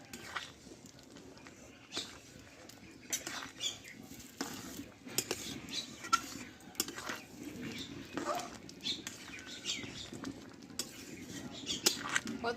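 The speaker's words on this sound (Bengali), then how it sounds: "এবার নাড়াচাড়া করে নেব" Egg ghugni with chopped coriander is stirred in a pan, producing soft irregular scrapes, taps and clinks of a spoon against the metal, quiet and close with no talk.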